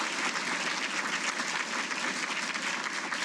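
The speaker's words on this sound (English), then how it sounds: "Let's give Donna a round of applause" Steady, dense applause from a large audience fills a hall of fame ceremony hall, holding at an even level throughout without any break or voices.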